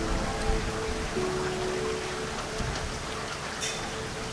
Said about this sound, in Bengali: বৃষ্টি তো কিছুক্ষণের মধ্যেই বন্ধ হয়ে যাবে।